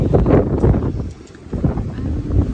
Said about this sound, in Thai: มาดูกันที่เสียงลมขนาดไหน